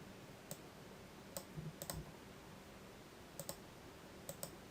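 Computer mouse clicks while drawing in Photoshop, sharp faint single and double clicks spaced irregularly over a quiet hiss, with no voice.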